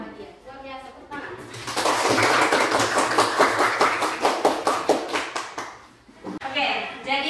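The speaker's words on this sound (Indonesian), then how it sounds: "Luar biasa, tepuk tangan." A class of children clapping together in a rhythmic burst of sharp, evenly spaced claps, preceded and followed by a teacher's voice talking.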